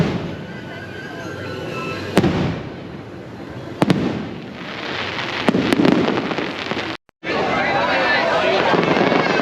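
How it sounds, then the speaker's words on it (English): Fireworks bursting over a Disneyland Resort roller coaster at night, with a steady crackling roar and several sharp near bangs, one brief dropout, under a noisy crowd. "fireworks on a different galaxy is pretty cool"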